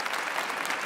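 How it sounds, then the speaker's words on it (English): Dense, steady clapping from a conference audience applauding its speakers, a continuous mid-level wash of many hands with no gaps. "Let's give our speakers a round of applause"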